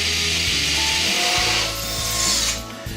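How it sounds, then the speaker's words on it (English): A power drill fitted with a 3/16 masonry bit bores a hole into concrete, a loud continuous grinding whir with brief dips and restarts, close up and without talk. "You start the drill."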